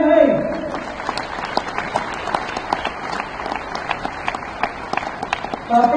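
Crowd at a Delhi political rally claps for officials, a dense, steady roar of many hands with scattered sharper claps, loud and sustained, while a voice speaks briefly at the start and end.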